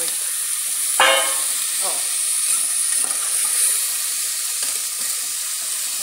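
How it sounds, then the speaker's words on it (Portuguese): Chicken pieces for a quick chicken stroganoff lightly fry in a pan, a continuous bright sizzling hiss with occasional stirring scrapes, and a brief spoken interjection near the start. "Vou fritar e volto para mostrar como ele ficou."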